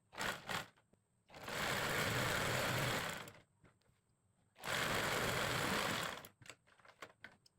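A sewing machine stitches a panjabi button placket in two long, steady runs of rapid mechanical whirring, each a couple of seconds long, with quiet clicks and handling noises between them.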